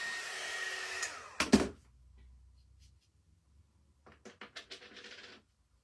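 A heat tool blows briefly on a plastic rub-on transfer, giving a short airy hiss before a couple of sharp knocks, then a quiet gap and a quick burst of light scratchy tapping.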